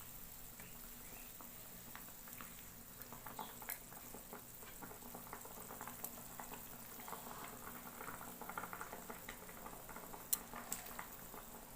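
Hilsa fish cooks with raw banana in a pan, giving a soft, steady bubbling and simmering with scattered small pops and crackles, quiet and continuous with no talk.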